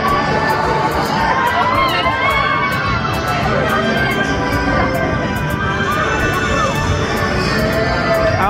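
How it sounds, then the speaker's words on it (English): Amusement park ride at Thorpe Park with a rider screaming amid a loud, continuous wash of crowd noise, rumbling motion and shouting, sustained at close range throughout. "you can definitely hear her screaming"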